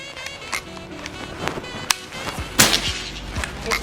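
A Predator Escobar PCP air rifle fires several sharp, close cracks spread through a few seconds, the loudest near the end, each a quick snap with little tail.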